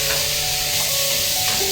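Pork fat frying and browning in a cooking pot, with a loud continuous sizzle and faint stirring scrapes throughout.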